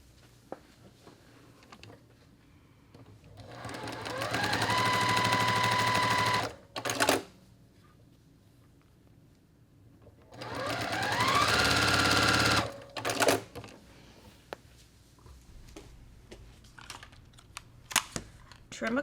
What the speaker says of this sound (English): here I'm going to stitch on those lines again